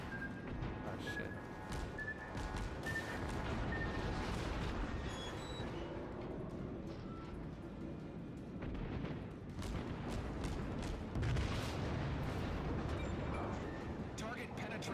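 Warship shells striking an enemy ship in World of Warships, heavy booming impacts and rumbling explosions rolling across a long stretch beneath a continuous low battle din, with a voice talking over it.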